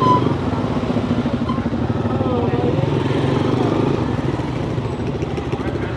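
Several motorcycles setting off together on a group road trip toward Sajek, a continuous close engine rumble with a throbbing idle-like pulse, and people talking over it.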